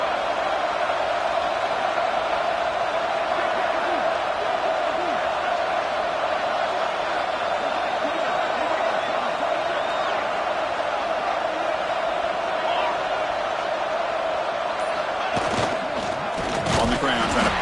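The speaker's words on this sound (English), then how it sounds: "And here comes the noise. This crowd is trying to inspire this defense to make a big red zone stop." A college football stadium crowd roars in a sustained, loud wash of cheering and noise while the defense stands in the red zone at a conference championship game, with a commentator talking over it and a brief burst near the end.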